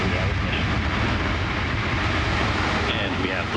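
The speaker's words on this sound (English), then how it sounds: "And we have liftoff of Antares" An Antares rocket lifting off carries Cygnus on a resupply mission to the ISS, its main engines giving a dense, continuous low roar that stays loud and steady from start to finish.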